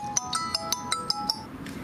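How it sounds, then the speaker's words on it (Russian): A phone ringtone plays alone, a repeating electronic melody of short bright tones in a steady rhythm, moderately loud and close by. "Вот, звонит."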